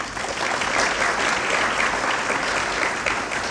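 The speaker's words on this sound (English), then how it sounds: "Please, a round of applause." Sustained audience applause at a breakfast event, dense steady clapping from a room full of people with no break.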